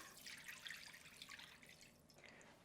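Chicken stock poured into a pressure cooker, a faint, soft splashing trickle of liquid lasting a couple of seconds.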